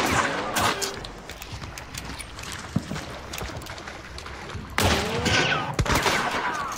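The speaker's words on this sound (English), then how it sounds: "Oh, just shot him through the wall." Video game gunshots ring out in sharp reports: a cluster of quick shots early on, a lone crack near the middle, and a louder burst near five seconds, echoing under a background murmur.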